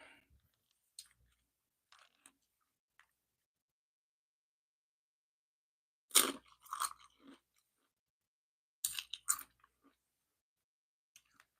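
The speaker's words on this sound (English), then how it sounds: "I'm just eating some chips and salsa." Crunchy tortilla chips with salsa being chewed close to the mic, in two loud bursts of crisp crunching separated by near silence, with a few faint clicks and mouth sounds earlier.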